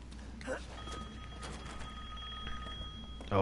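A telephone rings in the video game Resident Evil Village, a repeating electronic ring heard fairly faint beneath a low ambient hum and game noise, with no speech over it.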